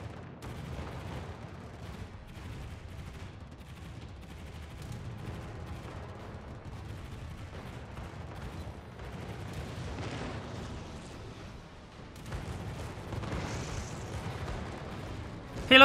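Sustained rattling gunfire from a light cruiser's anti-aircraft batteries in a naval combat video game, a dense continuous barrage with booming low end holding steady throughout, swelling louder near the end.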